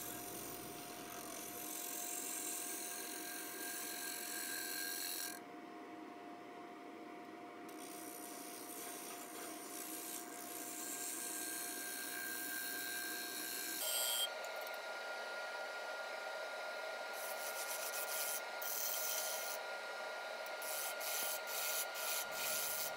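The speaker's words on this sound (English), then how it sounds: "using the skew chisel here to flatten the top before I start hollowing out the inside of the" A skew chisel flattens the top of a walnut plate turning on a woodturning lathe, giving a steady scraping, rasping cut that runs continuously at close range, with the tone shifting partway through and no talking.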